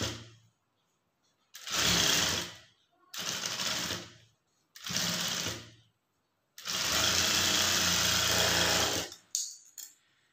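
Electric sewing machine stitching a blouse in several bursts, four runs of rapid mechanical whirring separated by pauses, the last one longest, close and fairly loud with no voices.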